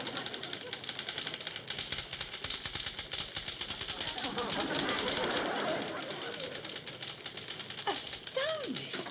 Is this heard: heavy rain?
no